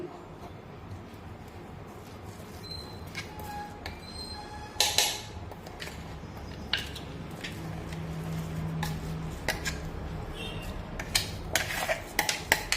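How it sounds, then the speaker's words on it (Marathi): Coarsely ground sprouted moong beans being moved into a bowl in a home kitchen, giving light clinks and scrapes of utensils against dishes, with a few sharper taps near the middle and end. "आता हे मूग आपण एका बाउलमध्ये काढून घेऊ"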